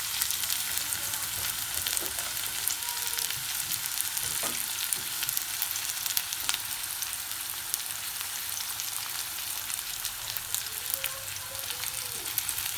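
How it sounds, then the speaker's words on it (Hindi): Onions frying in about two tablespoons of oil for a lamb trotter curry, a steady broadband sizzle that holds even and unbroken throughout, close and moderately loud with no voices. "ये इस ऑयल में मैं अपनी प्याज हल्की सी लाल करूँगी"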